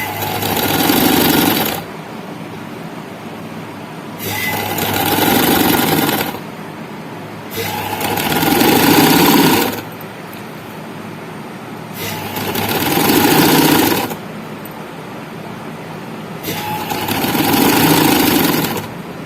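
Domestic sewing machine stitching gathers onto a jangia, running in five steady bursts of roughly two seconds each, separated by short quiet pauses, close and fairly loud.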